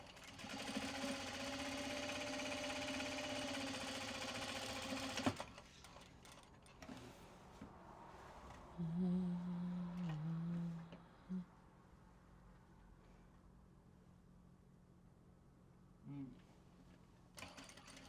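A sewing machine stitching a seam, a steady close mechanical whir for the first few seconds that cuts off abruptly, followed by quieter handling noises and a voice talking.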